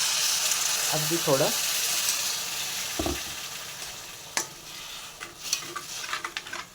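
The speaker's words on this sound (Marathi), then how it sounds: "थोडंसं आपण इथे गरम पाणी घालणार आहोत" Hot water poured into sizzling masala in a pan for stuffed brinjal, giving a brief hiss and bubbling, followed by scattered stirring clinks and soft sizzle; someone speaks briefly early on.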